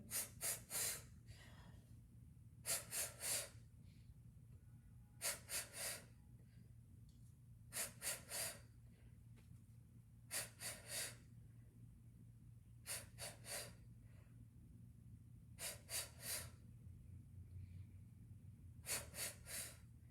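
Slow yoga breathing, with forceful nasal exhales that come as paired bursts about every two and a half seconds, close and fairly quiet over a low steady hum.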